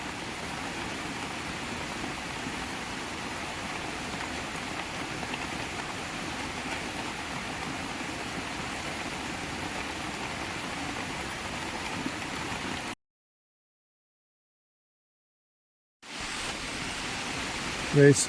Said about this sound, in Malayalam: മഴ രാവിലെ മുതൽ നിൽക്കാതെ പെയ്യുന്ന മഴയത്ത്